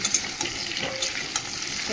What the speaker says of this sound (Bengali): পেঁয়াজটা একটু নেড়ে নিয়েছি, এবারে সবজিটা কেটে রেখে দিয়েছিলাম, ধুয়ে জল ঝারিয়ে নিয়েছি।